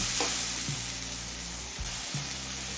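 A chopped large onion frying in a pan, giving off a dense, steady hiss of sizzling oil close by, with a couple of soft stirring scrapes near the end and no voices.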